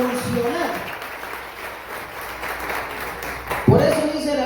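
Applause from a church congregation during a Spanish-language sermon, a steady wash of clapping that runs through the whole moment, with a voice speaking over it.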